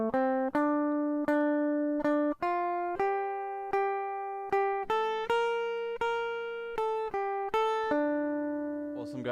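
Guitar plays the second section of a film theme as a clean single-note melody of about fifteen plucked, decaying notes in a steady rhythm, close and alone without talk.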